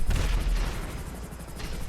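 Missile fire from the FH1 Hunter helicopter in GTA Online, heavy booming launches over a constant rotor-like drone, loud and close, with a rhythmic pulsing throughout.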